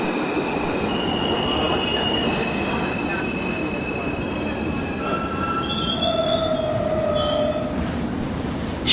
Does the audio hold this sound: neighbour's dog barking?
no